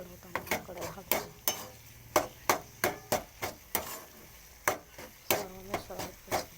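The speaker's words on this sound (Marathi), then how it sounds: "सर्व मिश्रण हलवून घ्यायचं." A spoon stirs an eggplant bharit mixture in a pan, making a quick series of sharp scrapes and clinks against the metal at an irregular rhythm, close and clear over a faint sizzle.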